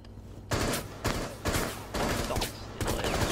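Rapid gunfire in Rainbow Six Siege, with several loud bursts of shots starting in quick succession and overlapping into one another, with no spoken voice heard.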